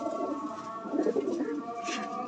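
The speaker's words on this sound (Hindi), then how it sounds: "ये सारे मेरे उड़ने वाले कबूतर हैं" Soft, low coos from domestic flying pigeons sound close by, a few murmuring calls against a quiet background.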